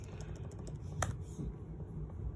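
Quiet typing on a computer keyboard, a quick run of light key clicks over a low background rumble, with one sharper keystroke near the middle.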